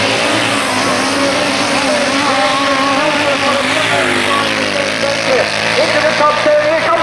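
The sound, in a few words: grasstrack racing motorcycles passing by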